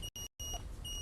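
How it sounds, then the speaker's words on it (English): High electronic alarm beeps sound in short repeated bursts indoors, broken by brief gaps, fairly close and steady with no voices. "The alarms are going off."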